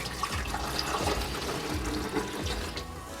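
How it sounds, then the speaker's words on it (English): Water pours steadily from a bowl into a countertop ice maker machine, a continuous close splashing and trickling stream lasting the whole few seconds with no talk. "Let me just pour the water inside."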